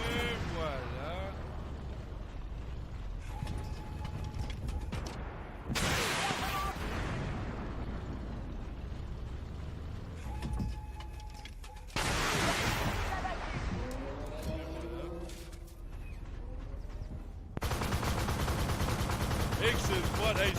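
Rapid automatic gunfire from a machine gun on the XM800T light tank in the video game Armored Warfare, heard as several loud bursts separated by quieter gaps, with battle rumble and explosions in between.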